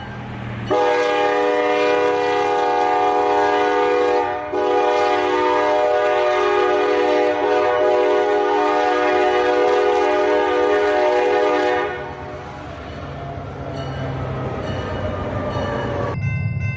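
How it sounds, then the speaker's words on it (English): A train emerges from darkness and passes close by, its horn blaring in a long sustained blast over the rumble of the wheels, then dropping away as the cars keep rolling past. "A man films a train emerging from the darkness"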